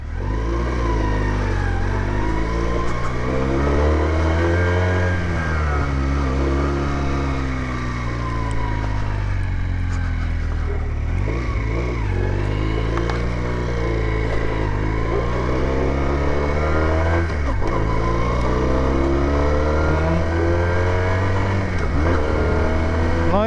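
A heavy Junak M15 125cc motorcycle engine revs and accelerates continuously, its pitch rising and falling through gear changes, loud and close throughout.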